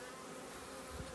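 Honey bees buzz around a hive in a faint, steady, close hum that lasts only a moment.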